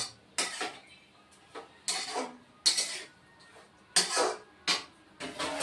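Clanking metal knocks as a lid is set over a pan of spinach cooking on the stove, several distinct clinks and clatters spaced out over a few seconds, close and fairly loud.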